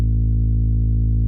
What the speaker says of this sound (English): I found another bass that had more sub tendencies